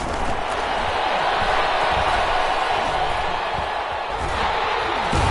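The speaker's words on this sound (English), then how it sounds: "the crowd getting into it as we come up on a big third down" Steady roar of a stadium crowd in a PS4 American football video game, building ahead of a big third down, a dense continuous wash of voices with faint commentary woven in.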